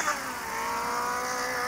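A car engine in a racing game played on a tablet drones steadily with a high, whining revving tone, heard somewhat distantly as if from a small device speaker, with no talk over it.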